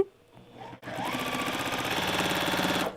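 Sewing machine stitching a quilt, starting after a brief quiet moment and then running in a fast, even, close-up whir until the end.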